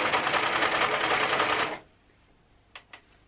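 A serger sewing machine runs in a steady, dense whir for under two seconds, then stops, followed by two short faint clicks in near silence.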